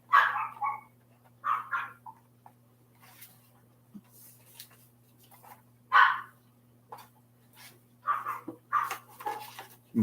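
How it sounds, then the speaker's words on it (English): Several dogs bark in short bursts and clusters, somewhat distant and indoors-sounding, over a steady low electrical hum, with a few quiet gaps between volleys. "My dogs are going crazy."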